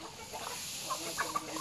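Chickens cluck softly at afternoon feeding time, a few faint, short clucks coming through a quiet outdoor background.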